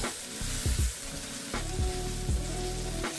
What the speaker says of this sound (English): scoop the green onions there. Cook that up in there too.